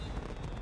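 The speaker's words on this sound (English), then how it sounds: "Nice touch setting off the fireworks." Fireworks burst in an Avatar: The Last Airbender cartoon episode, a short dense crackling blast with heavy low rumble, loud and continuous for under a second.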